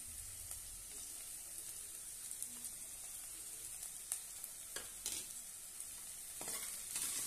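Spices with salt, red chilli powder, coriander powder, garam masala and turmeric sautéing in oil for a spicy sandge curry, a soft continuous sizzle with occasional light spatula taps and scrapes, quiet and close.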